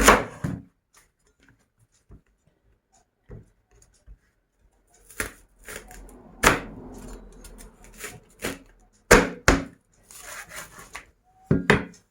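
A knife chops vegetables for a shrimp stir-fry on a wooden board, giving sparse, irregular knocks that start quietly and grow into a loose series of sharp, close chops in an otherwise quiet room.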